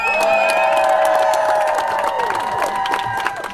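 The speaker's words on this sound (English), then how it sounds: "Please let me hear everybody cheer." A large crowd at a protest rally cheers and whoops loudly and steadily, with shouting voices and high whistles on top and a little clapping mixed in, staying full for the whole stretch.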